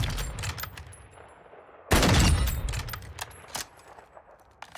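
SPX-80 sniper rifle shots in a video game: sharp, loud cracks, with one heavy blast standing out partway through among quieter intermittent shot sounds.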